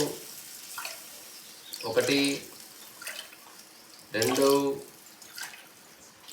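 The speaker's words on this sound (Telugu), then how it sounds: "మొత్తం మూడు గ్లాసులు సరిపడా వాటర్ పోసినాం" Two short splashing pours of water from a glass into a pot for making upma, each a brief gush a couple of seconds apart, with voices counting softly between them.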